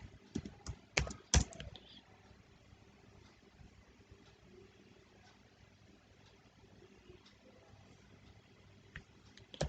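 Python code is typed on a computer keyboard: a quick cluster of close key clicks near the start, then sparse faint taps and a final click.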